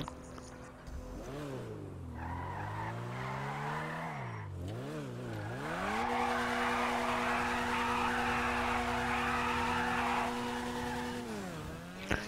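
A car, a prize vehicle being test-driven, revs and accelerates with rising and falling engine pitch over about twelve seconds. The engine runs loud and close, with tire noise and a brief skid-like squeal.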